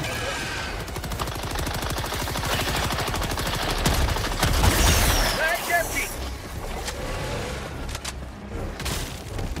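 Sustained automatic gunfire aimed at a large enemy in Helldivers 2, rapid rattling shots with heavy booms and rumbling, loud throughout, while players talk over the fighting.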